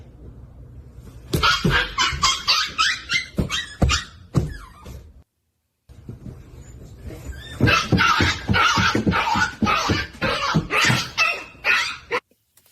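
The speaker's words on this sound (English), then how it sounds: "That dog sounds like it's dying." A dog makes repeated strained, crying yelps in bursts, close and fairly loud, with a short silent gap midway.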